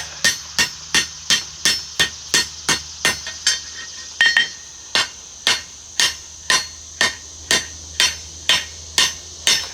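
A hammer strikes metal over the edge of an anvil in a steady series of about twenty ringing blows, each with a bright metallic clang, close and loud, with one brief pause midway.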